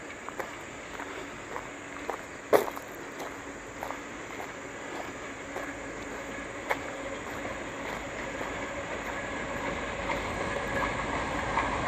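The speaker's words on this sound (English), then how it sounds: "it looks like it's just a cargo train." A cargo train rumbles past near a tunnel on a trail, a steady far-off roar with faint rail clatter and a few sharp knocks that slowly swells louder.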